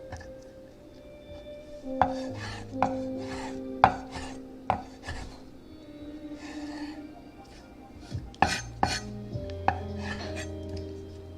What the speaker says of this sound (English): Hope I'm not chopping this bacon too small.